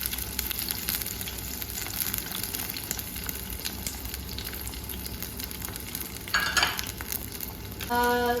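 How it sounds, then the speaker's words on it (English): Sliced onions, green chili and ginger garlic fry in hot oil, giving a continuous loud close sizzle with crackling and a brief stirring scrape partway through. "I'm just going to add the sliced in onions, green chili and the ginger garlic."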